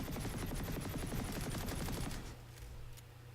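Aimed weapon fire in Planetside 2: a rapid, continuous burst of automatic gunshots at close range that cuts off abruptly after about two seconds, leaving a quieter hum with one faint late shot.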